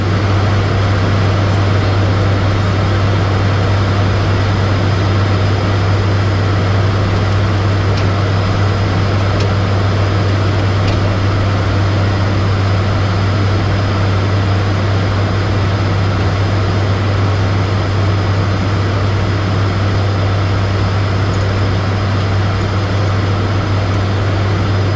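ATR turboprop airliner engines in flight during a visual circuit, a loud, constant droning hum with a strong low steady tone and broad roar, unbroken and without talk.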